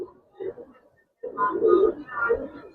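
Pigeons coo from a Giribaz and colored pigeon stock in a loft, soft rolling calls rising and falling at close range, broken by a brief pause, while people talk nearby.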